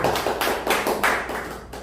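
A small audience gives brief, close applause for a guest introduced at a Christian press association's founding thanksgiving service in a Seoul Station meeting room, a short run of claps lasting under two seconds.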